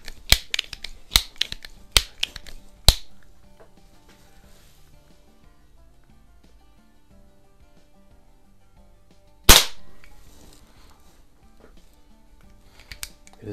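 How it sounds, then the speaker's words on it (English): Sharp pops from a Benjamin Franklin model 137 multi-pump .177 pellet pistol, a rapid string of cracks early on, then a single louder shot after a long gap and another near the end, with faint handling noise between. "We'll just shoot five shots into a group"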